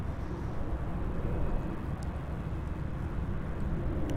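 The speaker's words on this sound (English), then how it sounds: "Touching down there is going to be the Qantas Bombardier Dash 8 Q400, operating from Albury as QF2202." A Qantas Bombardier Dash 8 Q400 turboprop touches down at Sydney Airport. Its engine and rolling noise form a steady, moderately distant broadband rumble that runs without a break, and no voices are heard.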